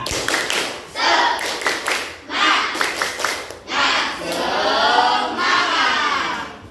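A primary-school class does a rhythmic group spirit clap, loud bursts of clapping in patterned beats, followed by children chanting and shouting together.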